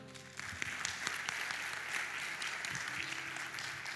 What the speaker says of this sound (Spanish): da un fuerte aplauso al Señor